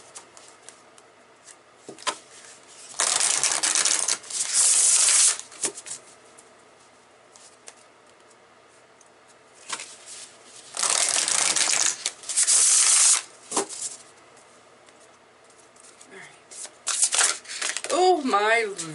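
Oracle cards being shuffled by hand in several brisk bursts of papery riffling, separated by pauses, with a person talking in between.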